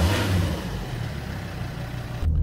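A Volvo XC90 D5 AWD diesel with a stuck swirl flap actuator fault drives at around 40 mph, giving a steady low engine and road rumble heard from inside the cabin, with a brief shift in tone near the end.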